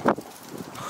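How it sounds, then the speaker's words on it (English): Wind buffets a microphone outdoors during a steam test of a Chiltern model horizontal mill engine, a brief low rumbling gust that peaks at the start and then settles into a faint whooshing. "The wind is horrible here."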